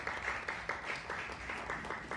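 An audience claps for an author walking onto a stage at a Korean textbook forum. The applause is moderately loud and steady, with some sharper claps standing out, and it runs on without talk.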